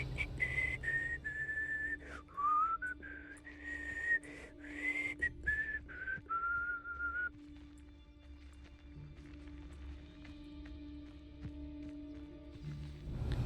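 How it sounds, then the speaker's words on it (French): A melodic whistle plays in a video game, several sustained, wavering tones over the first seven seconds. A steady background hum and faint running and footstep-like sounds follow. "c'était dans le jeu que ça sifflait"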